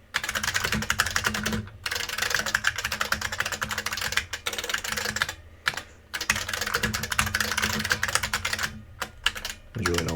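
Rapid, continuous clatter of typing on a computer keyboard nearby, broken by a few brief pauses.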